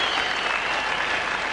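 A cricket crowd at a 1980-81 World Series Cup match applauds a batsman's shot lofted over mid-wicket for four, a steady, dense wash of clapping that holds evenly for the whole moment.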